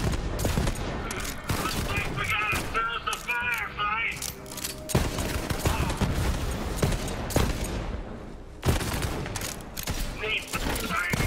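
Rapid gunfire in a firefight in the video game Borderlands 3: dense bursts of shots and explosive booms crowd the whole stretch, mixed with game voices and clattering effects, loud and close.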